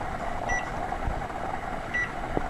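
A kitchen oven timer gives two short, clear electronic beeps about a second and a half apart as it is set, over a steady background hum.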